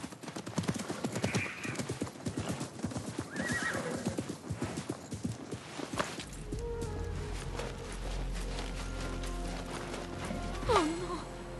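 Horse hooves clip-clopping and a loud whinny in the video game Assassin's Creed Mirage, with steady hoofbeats for several seconds, then a sharp neigh near the end over ambient game sound and brief voices.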